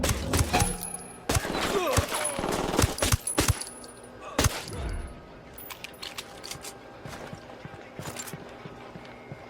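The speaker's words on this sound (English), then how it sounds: "Open fire." Gunfire erupts in the Spec Ops video game during a Bolivia cartel mission: sharp close shots and automatic bursts crack in clusters over the first few seconds, then thin to scattered single shots and rattles, with brief radio-style voices mixed in.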